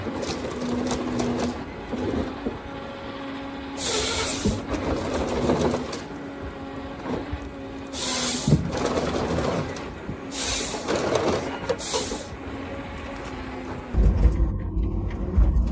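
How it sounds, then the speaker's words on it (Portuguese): A forestry harvester grips, cuts and processes a tree trunk, giving a continuous loud mechanical rumble with hydraulic whine and recurring hissing bursts, ending in a heavier low thump. "Uma única máquina consegue agarrar uma árvore, cortar sua base e começar a processar o tronco quase imediatamente"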